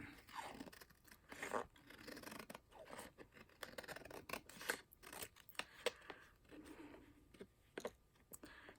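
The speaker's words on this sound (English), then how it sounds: "I'm going to trim this with my scissors." Scissors snip through paper in a series of crisp, irregular cuts, with small rustles and handling noises between them, close up and fairly quiet.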